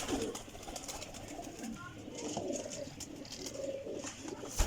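A Nankana Sahib pigeon coos softly near a low room murmur, with faint chirps and shuffling scattered through the short stretch.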